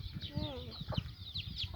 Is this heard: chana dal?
no